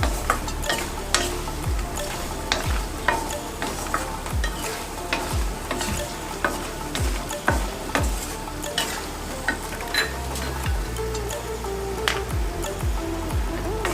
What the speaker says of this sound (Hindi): आप इसको वैसे भी देसी घी में फ्राई करके खा सकते हैं